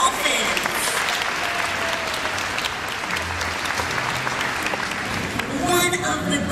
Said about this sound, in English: So let's get a big round of applause for the dolphins.